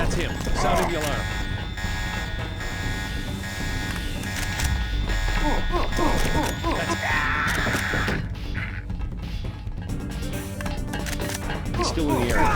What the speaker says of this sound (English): Sounding the alarm.